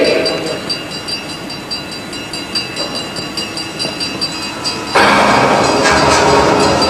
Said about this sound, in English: Be careful, son. The train is coming.